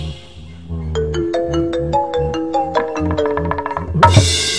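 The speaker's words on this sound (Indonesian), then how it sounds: "Buset, nada dering." A phone ringtone plays a loud, close, bright melodic tune of rising and stepping tones with a bouncy beat, ending in a sudden burst of noise.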